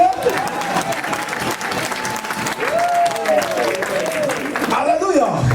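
A church congregation in Rennes applauds and cheers in a dense, steady wash of clapping, with raised voices and a sustained sung or called tone carrying over the crowd throughout.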